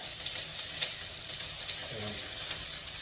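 Seasoning hits hot oil in a pot for a Jamaican cornmeal and vegetable chunks stew, giving a steady close hiss and crackle of frying without any talking.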